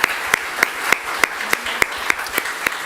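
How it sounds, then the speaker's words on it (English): Audience members applaud a filmmaker at a Sunday church service, sparse, sharp claps ringing out at a steady beat, close and distinct over a quiet room. "please, give a round of applause"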